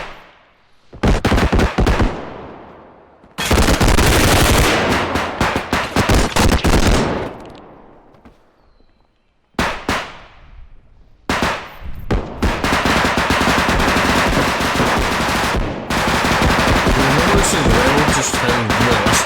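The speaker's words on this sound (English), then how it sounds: "the gunfire is like extremely loud on it" Very loud gunfire in the realistic shooter game Bodycam, with long sustained automatic bursts and a few single sharp shots separated by short silences, close and dominant, with no voices.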